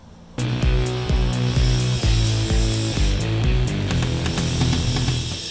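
A power tool cuts through Super Strut metal channel, with a loud grinding, ringing whine that starts abruptly and carries on with rhythmic surges and clanks.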